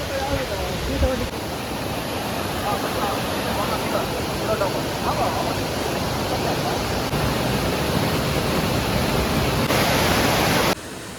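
A waterfall roars as a dense, steady wash of rushing water, loud and close throughout, with voices faintly under it; it cuts off abruptly near the end.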